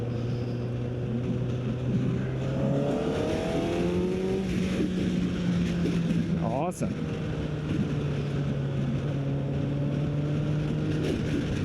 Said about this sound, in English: The sound of that exhaust system is fantastic.